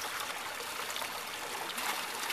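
Water pours steadily from a 2-inch pipe into an aquaponics fish tank, a constant close trickling stream with no voices.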